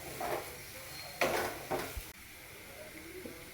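A jackfruit seed mixture with ground coconut sautéed in a pan, with a few sharp stirring scrapes and bursts of sizzle over a low hiss, close and fairly quiet.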